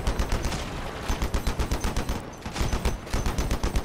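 Vehicle-mounted weapons fire in the combat game Crossout, a rapid, steady stream of sharp shots in fast rhythmic bursts. The fire is loud and close, with a brief lull midway before it resumes.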